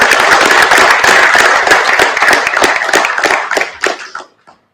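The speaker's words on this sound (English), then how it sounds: "Can we have a round of applause for that?" Loud, close audience applause at a political interaction event, many hands clapping densely and steadily before tapering off and stopping abruptly near the end.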